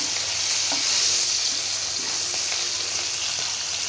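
Fish fry in a pan for a vegetable fish curry, giving a loud, steady hiss of hot oil with faint crackles and occasional light stirring clinks throughout.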